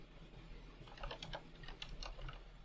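Soft, quick keystrokes tap on a computer keyboard in short bursts while code is entered, the clicks faint and close against a quiet background hum.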